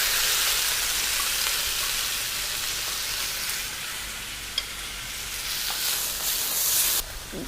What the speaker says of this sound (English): Now let's add the cooked chickpeas to the wok.